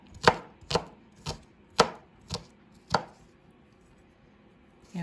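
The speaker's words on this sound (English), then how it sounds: "if you're chopping it yourselves, mind your fingers" A kitchen knife chops vegetables on a cutting board for a stir fry, giving six crisp, separate knocks at an uneven pace, close and clear with a quiet room behind them.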